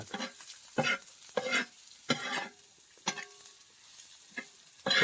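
Onion sautéed in oil for a drumstick-flower bhaji, with irregular bursts of spatula stirring and scraping against the pan over a soft, faint sizzle.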